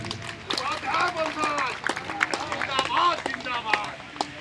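An audience at an Upadhyay family assembly in Antu, Pratapgarh claps in a steady, moderately loud patter of many hands, with voices talking over the applause.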